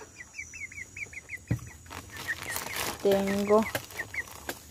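Hens cluck repeatedly in a farmyard coop while being fed, short bursts scattered across the clip with a louder, harsher squawk near the end, and a person speaks briefly over them.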